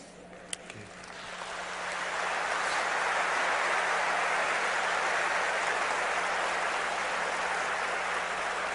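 A church congregation breaks into applause during an evangelical sermon, the clapping swelling from a few hands into a dense, sustained roar that fills the hall and holds steady at full volume.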